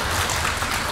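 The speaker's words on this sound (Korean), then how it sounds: "여러분들께서 동의하신다면 박수 한번 쳐주시죠." A dense wash of audience applause at a local mayoral candidates' welfare policy presentation, a brief steady clapping crowd.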